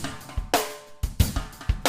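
Drum loop processed through Zynaptiq Unfilter and blended back with the unprocessed signal: punchy kick and snare hits in a steady pattern with bright, washy cymbal tails, loud and alone.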